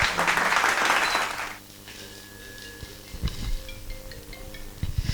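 An audience at a Maa Budhi Thakurani Jatra contest claps loudly for about a second and a half, then the applause thins to scattered claps over a quieter room with a few sharp knocks.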